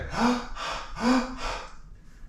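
Two slow, deep breathing cycles, each an audible inhale followed by a breathy exhale, close and fairly loud, then tapering off into quiet.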